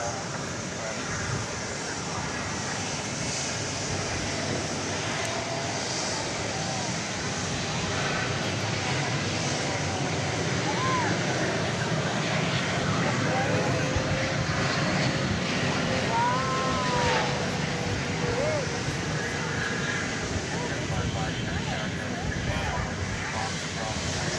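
A Boeing 777 taking off at DFW Airport at night, a broad distant engine roar building and holding steady throughout, with a person talking at times over it.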